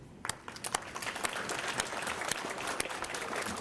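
Applause at a GED graduation ceremony begins with a few sharp individual claps, then builds into a steady round from the audience that holds to the end.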